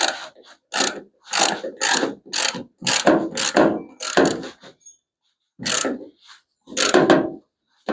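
A ratchet tightens the mounting of a trunk lid gas lift strut on a Plymouth Duster, making short bursts of clicking in quick groups that are separated by brief pauses, close and fairly loud.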